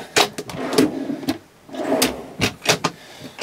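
A large kitchen drawer in a slanted kitchen block of a Pössl Roadcruiser XL camper van slides and knocks several times, giving a series of close, short thumps and clicks with quiet sliding between them and no talking.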